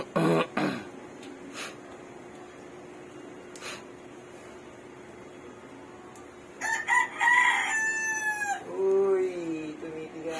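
A pet rooster in a rural Batangas yard crows twice, a brief call near the start and a longer, louder cock-a-doodle-doo near the end, with scattered clucks and quiet pauses between.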